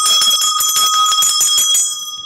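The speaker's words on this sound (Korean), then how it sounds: "채팅창에 이번엔 종을 좀 박살나게 쳐달라" A bell struck hard and loud in the manner of a stock exchange opening bell, ringing as a rapid, sustained metallic clang for nearly two seconds before fading, with no talking over it.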